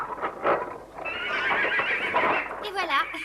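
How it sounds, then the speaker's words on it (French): At a stable, horses' hooves clip-clop while voices talk, and a horse gives a loud, close whinny near the end, rising above the chatter. "nous avons toutes sortes de chevaux à l'écurie"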